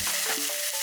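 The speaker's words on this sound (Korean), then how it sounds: "오늘도 신문지를 깔고 기꺼이 고기를 굽습니다" Pork belly sizzles as it grills in a frying pan at home, giving a loud, steady hiss of fat crackling and spitting, close up with no voices.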